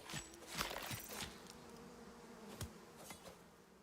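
Several bees in a survival game buzz faintly in and out of range, with brief louder passes and soft impacts against a quiet, steady background drone.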